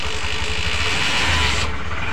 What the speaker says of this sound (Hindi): देखिए दोस्तों हम किक का अप्लाई कर रहे हैं।